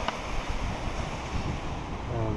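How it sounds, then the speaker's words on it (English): Creek water rushing where it drops over a waterfall on the Pinto Lake Trail, a loud, steady broadband roar close by with some wind buffeting and no talk. "I just see the tip of the water just rushing where my feet are"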